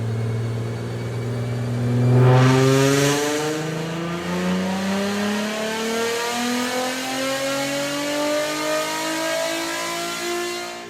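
A Nissan 350Z on a dyno revs steadily through about 2,500 to 3,000 RPM, its engine note rising with a raspy, buzzing edge; moderately loud and continuous, swelling briefly early on before settling into a sustained drone.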